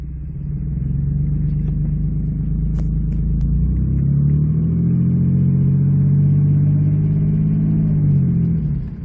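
A 2007 Dodge Nitro with a freshly replaced engine on a road test, its engine droning loud and steady inside the cabin, rising in pitch as it accelerates and then easing off.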